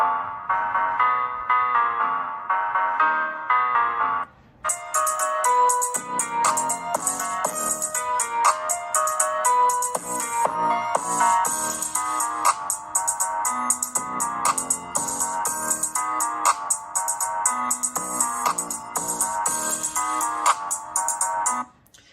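Loud music plays through the small speakers of a Samsung Galaxy Tab A9+ at full volume, bright and busy, starting thinner for a few seconds then filling out with a fuller, continuous mix.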